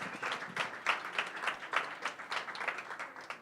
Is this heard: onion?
no